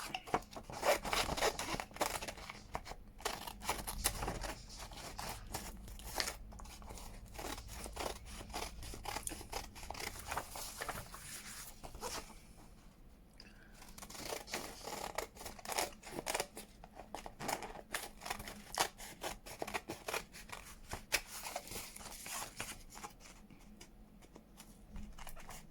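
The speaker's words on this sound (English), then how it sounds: "I'm going to cut round that." Scissors snip paper in quick irregular runs of crisp close cuts, with brief pauses and rustling of the sheet, steady throughout and without speech.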